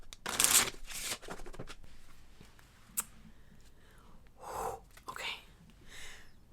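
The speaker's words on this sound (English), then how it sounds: "So I'm going to shuffle." A deck of cards is shuffled close up in quick riffling bursts, followed by softer shuffles and breathy sounds in a quiet room.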